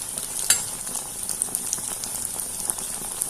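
Kannur muttasirkka rice batter sizzles steadily in hot oil as it is flipped, a continuous crackling fry with small pops and one sharper clink near the start.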